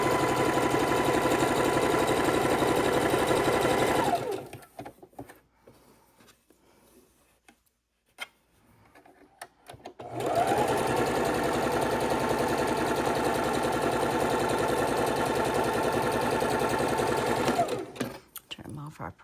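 A sewing machine stitches quilt blocks in two long, steady runs of fast, even mechanical rattling. Between the runs it goes quiet while a person talks.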